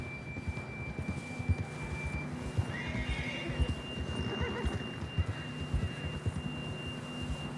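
Horse hooves clip-clop in a rhythmic gallop under whinnies in Red Dead Redemption 2, with a steady tonal whine from the game and a brief shimmer midway, fairly close and continuous.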